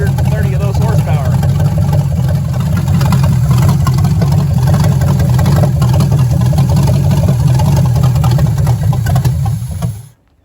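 The 350 V8 in a 1983 Chevy Malibu wagon runs steadily, a loud, close, rumbling idle that holds for about ten seconds before cutting off abruptly at the end.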